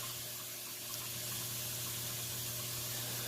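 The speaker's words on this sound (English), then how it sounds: "It'll just kick the drain on." Whirlpool Roper top-load washing machine draining its water, a steady broadband rush with a constant low hum from the drain pump running throughout.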